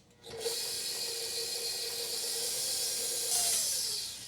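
An electric mixer whirs steadily through cupcake batter with flour and orange juice, a continuous even motor hum at close range that rises slightly near the end before easing off.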